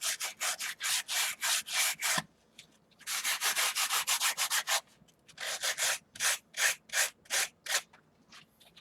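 Sanding corrosion off the surface of a Harley Dyna rear pulley by hand, in three runs of quick rhythmic rubbing strokes separated by short pauses, close and clear with no talking.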